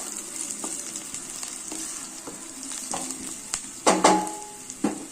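Chopped onions frying in a pan for a Telugu-style peas chaat, a steady close sizzle with stirring scrapes and a few louder clatters of the spatula near the end.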